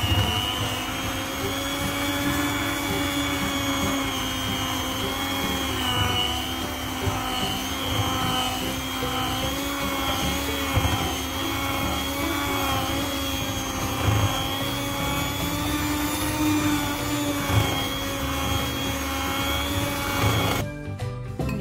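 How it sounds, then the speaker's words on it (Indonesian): An electric hand mixer beats butter and margarine for cookie dough, giving a loud, steady motor whine with a constant pitch that runs without a break and cuts off just before the end. "Akan mulai saya mixer."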